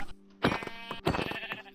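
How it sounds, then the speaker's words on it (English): Two bleats from Minecraft sheep, each a short wavering cry, the second a little longer, close and clear with no talk over them. "That's a sheep. There's 3 sheep."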